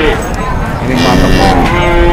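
Cattle at Pasar Wage livestock market in Pati, where sacrificial cows are sold, lowing in a long, loud moo that fills the clip against a steady background of market crowd noise.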